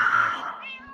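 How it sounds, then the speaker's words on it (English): A cat gives a single drawn-out meow, fairly close and clear, sliding down in pitch and fading at the end. "Cat."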